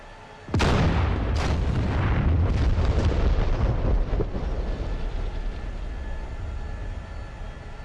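Enemy gunfire in the DCS flight simulator: a sharp loud blast followed by a rapid series of heavy booming impacts that decay into a rumbling tail, with no talk.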